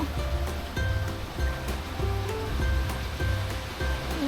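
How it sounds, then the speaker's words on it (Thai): A stream rushing past a homestay in Mae Kampong, Chiang Mai, with a steady, loud wash of flowing water filling the whole stretch and faint rhythmic thumps beneath. "เขามีลำธารไหลผ่านด้วย"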